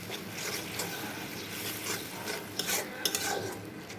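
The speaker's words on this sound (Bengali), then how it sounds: "মশলাটা কষাতে থাকবো।" Spice paste with chilli and turmeric sizzles in oil while a spoon scrapes and stirs it, a soft continuous fry broken by sharper scraping clicks toward the end.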